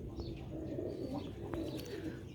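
Sialkoti rooftop pigeons coo softly and continuously at a distance, with a few faint chirps over a low, steady background hum.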